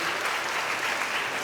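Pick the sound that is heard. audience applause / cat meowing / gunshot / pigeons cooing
audience applause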